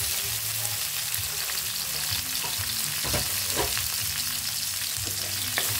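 Onions and tomatoes fry with bitter gourd (ampalaya) and egg in a pan, giving a loud, steady sizzle with occasional stirring scrapes and pops close by.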